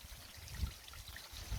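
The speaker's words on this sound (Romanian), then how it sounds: "Și rădăcinile, prin ele apa curge." Water trickles and dribbles through a tangle of tree roots outdoors, a soft, faint, steady burble with low gurgles swelling briefly and no one speaking.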